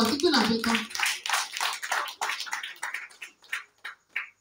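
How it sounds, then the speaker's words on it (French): A church congregation claps and cheers in praise, with voices and clapping mixed at first, then thinning out into scattered, separate claps toward the end. "Applaudis pour le Seigneur."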